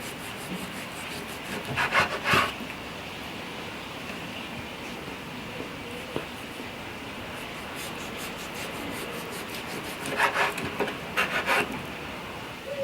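Sliced beef jerky meat is mixed by hand with marinade, giving soft, close rubbing and squishing sounds in two bursts with quieter handling in between.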